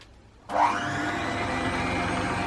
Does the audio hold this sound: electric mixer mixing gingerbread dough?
yes